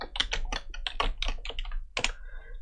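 Rapid close-up clicking of computer keyboard keys while layer names are typed in Photoshop, an uneven run of crisp keystrokes with a brief pause before a final burst, no talk.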